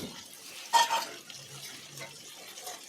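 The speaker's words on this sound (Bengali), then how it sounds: "তো লঙ্কা যে বাটিটা আছে সেটা ধুয়ে দিয়ে দিলাম জল।" Water running briefly in a sink as a chilli bowl is rinsed, with a short splash near the start and then a faint, steady trickle, quiet and close, with no talking.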